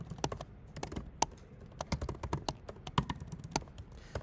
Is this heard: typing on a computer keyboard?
yes